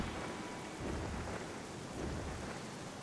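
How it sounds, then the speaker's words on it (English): Steady rain pours with a low rumble of thunder in a Zelda video game, a dense, even wash of sound at moderate distance, continuous and fairly quiet with no talking. "it's raining"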